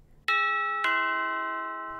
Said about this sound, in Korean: 현관문 앞에서 초인종을 누르고